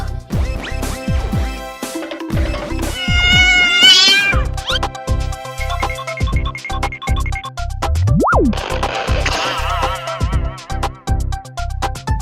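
A cat meows repeatedly and loudly in a children's cartoon song, its cries mixed with bouncy music, boing-like effects and a caterwauling stretch.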